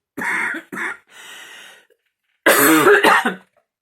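A few harsh coughs from one person nearby, a quick pair then a drawn-out raspy breath, followed by a louder burst of coughing.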